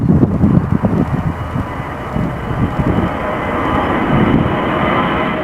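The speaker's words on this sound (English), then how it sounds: "This Volga-Dnepr cargo plane took off from Farnborough carrying a helicopter inside" A Volga-Dnepr cargo plane taking off from Farnborough in strong crosswind with a helicopter inside, its engines a steady loud roar mixed with gusty wind buffeting the microphone.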